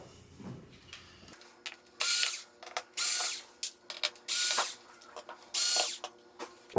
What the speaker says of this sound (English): Next step, we're going to remove these screws here.